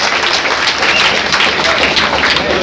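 Loud, dense applause fills a crowded hall at a Congress party ration kit distribution event in Govandi, a steady roar of many hands clapping throughout, with faint voices mixed underneath.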